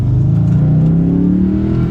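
The 4.2-litre V8 of an Audi B7 RS4 family saloon revs hard and close, a deep throaty roar that climbs steadily in pitch without any voices over it.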